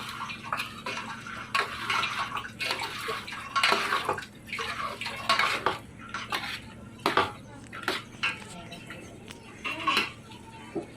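Chicken curry being stirred in a pot, with irregular clinks and scrapes of a metal spoon and some watery sloshing, close by and moderately loud, with no talking.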